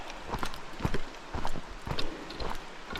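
Hooves clip-clop steadily on a hard dirt trail near Junction Creek Falls, Kananaskis, a walking rhythm of a pack of several horses nearby, with no talking.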